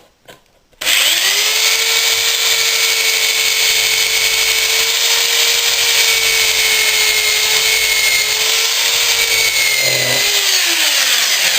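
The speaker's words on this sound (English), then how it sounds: "At this stage I'll only drill one hole," A power drill whirs steadily at close range drilling a pilot hole in wood for a drawer, after a brief quiet start, holding one sustained pitch for about ten seconds before winding down.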